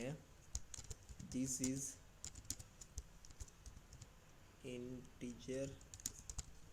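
C++ code is typed on a computer keyboard in quick bursts of close, crisp key clicks, while someone talks between and over the typing.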